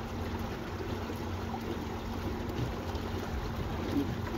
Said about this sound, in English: for this engine, it's only a third of its capacity and it's pushing us along really nicely.